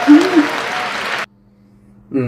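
Crowd applause during a state of the nation address, loud and dense for about a second, then cutting off abruptly to near silence before a voice returns at the end.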